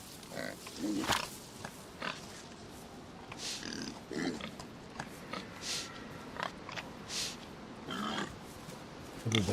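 Pigs in the DayZ survival game grunt and snort in short, irregular bursts, fairly close, with rustling and faint game ambience filling the gaps.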